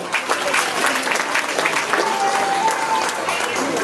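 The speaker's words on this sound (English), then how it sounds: "they were clapping, but they don't sound impressed" Audience applause at an elephant show in a zoo, a steady patter of many hands clapping at moderate volume for several seconds, with voices mixed in.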